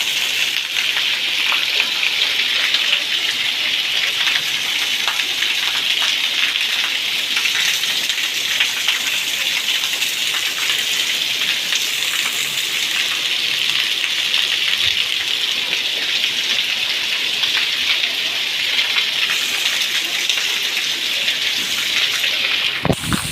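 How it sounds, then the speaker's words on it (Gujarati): Heavy monsoon rain pours down steadily and loudly for the whole stretch, a dense, unbroken hiss of water close by, with no voices. "કેવો વરસાદ આવે જો."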